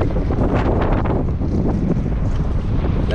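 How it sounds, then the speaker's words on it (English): Strong wind roars and buffets a microphone, a dense, loud rumbling gust that never lets up for the whole few seconds. "It's still windy."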